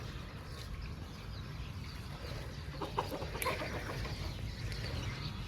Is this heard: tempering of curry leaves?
no